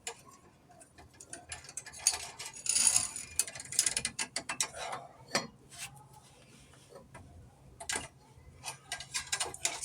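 Ratchet wrench clicking in short bursts while a differential pinion nut is tightened to set bearing preload on a Crown Victoria, with uneven close mechanical clicks and taps alone, no speech.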